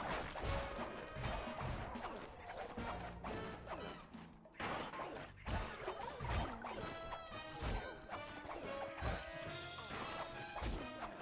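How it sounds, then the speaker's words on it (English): Repeated smashing and crashing blows as a car is wrecked in the Sly 2 video game, loud and dense impacts over a busy game soundtrack. "I think they're like smashing my car."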